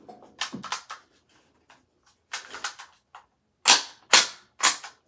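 A Crosman R1 Fallen Patriot full-auto .177 BB rifle fires in short sharp bursts of snappy cracks, three groups of rapid shots with brief pauses between, close and loud.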